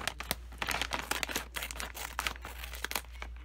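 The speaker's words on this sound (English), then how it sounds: "this bag, which I think is the potato flavored snack, is next. I'm gonna open it up and we're gonna try it. I have my scissors here." Crinkly plastic snack bag holding potato-flavored chips from a Japanese snack crate, rustled and crunched in close, irregular bursts with sharp tearing crackles, as if being handled and cut open with scissors.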